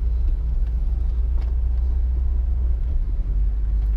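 1969 Lincoln driven slowly around a garage: a low, steady engine rumble and idle-like drone close by, with no talk over it.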